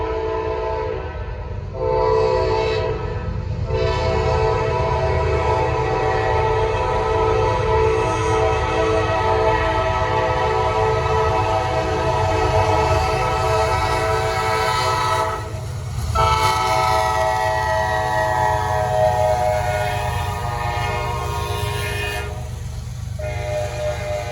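Norfolk Southern southbound freight train with C6M and GEVO locomotives passing at Gaffney, South Carolina: loud, continuous rumble and rolling wheel roar with long sustained horn blasts, close and dominant throughout.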